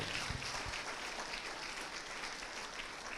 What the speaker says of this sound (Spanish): Dale una ofrenda de aplausos al Señor.